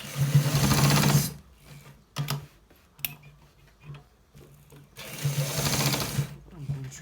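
A sewing machine runs in several loud bursts of rapid stitching on a designer collar shirt, stopping and starting between runs, with a voice speaking in the pauses.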